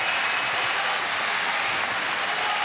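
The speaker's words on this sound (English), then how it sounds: "the crowd get involved again, as you can hear" Boxing crowd roaring and making steady noise at a live fight, a dense wash of cheering filling the whole moment without breaks, no clear talk over it.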